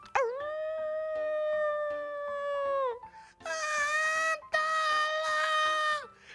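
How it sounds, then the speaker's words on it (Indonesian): Two long, mournful wolf howls rise and hold, each tapering off, with a brief gap between them over faint music. "Itu adalah suara lolongan serigala."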